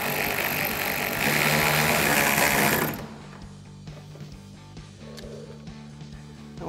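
Power tool whirring loudly as it drives 10 mm hex head screws into the upper mounting points of a RedRock pocket style fender flare on a 2014-2021 Toyota Tundra, a steady burst for about three seconds, then quieter workshop noise.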